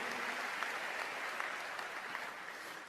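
A church congregation claps in praise during a sermon, a quiet, continuous wash of applause that sounds distant and stays even throughout.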